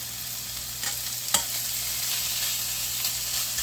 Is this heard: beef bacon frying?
yes